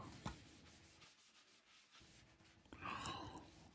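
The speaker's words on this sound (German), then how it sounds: "und nochmal mit feinem Schleifpapier übergeschliffen." Fine sandpaper rubs back and forth across a wooden shelf in steady strokes, close and soft, with a brief pause midway.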